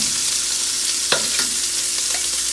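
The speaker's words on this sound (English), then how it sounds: "Flip them a little bit. As you see, they're not fully cooked. They're just getting a sear." Shrimp searing for a one pan jambalaya, a loud steady hiss of sizzling oil fills the clip, with a couple of faint utensil scrapes as the shrimp are flipped, close and continuous.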